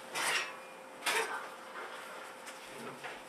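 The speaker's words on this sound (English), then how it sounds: "now I just have to grab the stainless steel tray" A stainless steel tray from a popcorn machine is handled, giving a few sharp metallic clanks and rattles spaced about a second apart, close and fairly clear against a quiet room.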